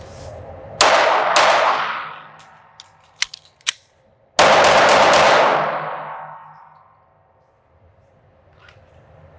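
Ruger RXM pistol fired in a draw-and-reload drill: two sharp shots with ringing decay, quick metallic clicks of a magazine change, then four rapid shots in a tight string fading into quiet.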